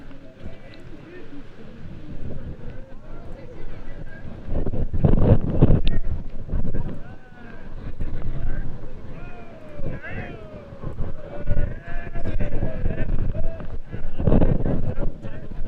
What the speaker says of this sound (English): more wind gusts howling through central Richland